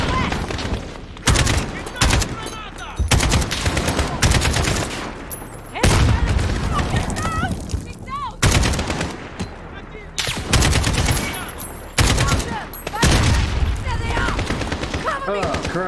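Loud, close gunfire and grenades in Call of Duty Modern Warfare: dense rapid automatic bursts, single shots and heavy booms in quick succession, with a voice speaking amid the firing.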